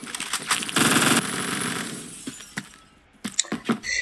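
An M231 rifle in the video game Phantom Forces fires a rapid burst and then several shorter bursts, loud and sharp, with gaps of quieter clatter between them.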